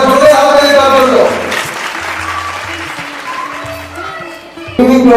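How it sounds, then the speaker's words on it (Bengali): An audience at a women's day stage show in Purulia claps loudly and steadily for a winner, with dense applause continuing throughout and a fresh burst near the end. "একবার জোরে হাততালি তার জন্য"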